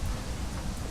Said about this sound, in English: it's causing a lot of dumping rain